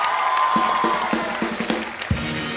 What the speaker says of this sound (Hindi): तो एक बार ऋतिक भाई के डांस के लिए जोरदार तालियां हो जाए